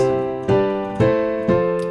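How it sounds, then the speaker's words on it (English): Four chords in a I–V–vi–IV progression are struck in a steady, even rhythm, each one ringing out and fading before the next lands. "1, 5, 6, 4 progression sounds like this"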